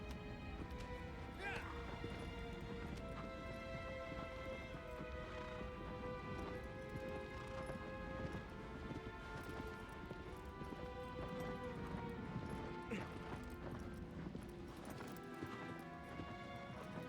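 Horse galloping in the video game Shadow of the Colossus, a steady run of hoof clip-clops layered over game music with a player talking throughout.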